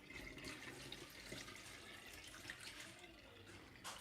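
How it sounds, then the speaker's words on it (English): Tap water runs into a kitchen sink while lamb meat is rinsed of lemon juice, a steady close splashing flow with occasional louder bursts and no talk. "I'm just gonna rinse off the lemon juice of that lamb"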